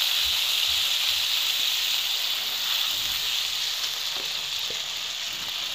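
Ground ginger, chili and cumin paste sizzles and fries steadily in a pan while making a Bengali-style egg curry, a continuous bright hiss with a few faint stirring clicks and no talk.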